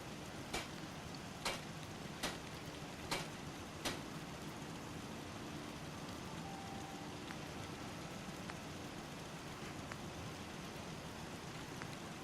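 Rain falling in the video game Fallout 4, a steady soft hiss of rainfall with faint drops, accompanied by five evenly spaced clicking ticks early on, quiet overall.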